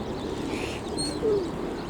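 Pigeons coo softly against a busy outdoor background hum, with a faint sweeping call rising briefly partway through.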